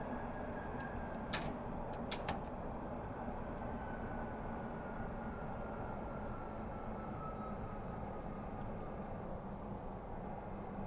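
London Underground Metropolitan line train in a train simulator game, a quiet, steady low rumble of running stock with a few faint clicks near the start.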